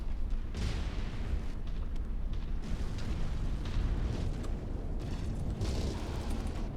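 A mech explodes in MechWarrior 5 as a dense, continuous roar of blasts and rumbling booms, loud and close, with sharper cracks in the mix.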